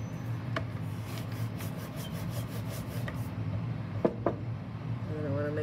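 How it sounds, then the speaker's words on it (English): A clay slab is rolled out with wooden dowel rods in a pottery studio for a soft slab cup, giving soft, steady rubbing and rolling strokes with a few light knocks near the end. "So again, we're gonna use our dowel rods. Roll this out, make sure it's wide enough."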